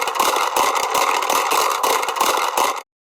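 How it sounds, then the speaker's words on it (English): A Livingston Sound Bullet fishing lure, used for ice fishing walleye, gives off a steady, busy rattling buzz with quick rhythmic pulses, loud and close for about three seconds before cutting off. "we got one of these Livingston sound bullets on now."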